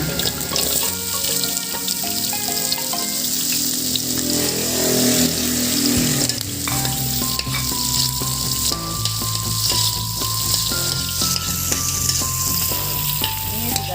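Shallots dropped into hot oil in a pan after garlic, sizzling and frying steadily and loudly up close, with continuous crackle and a brief watery rush partway through.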